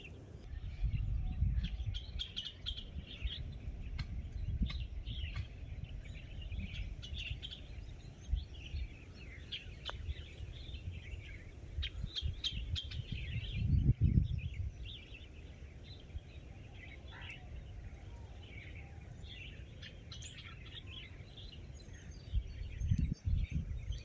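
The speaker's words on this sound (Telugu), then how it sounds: "రకరకాల పక్షుల శబ్దాలు మనం వినవచ్చు" Assorted birds call and chirp through a village forest, a steady scatter of faint, overlapping tweets near and far, with a few louder rustles and thumps close by.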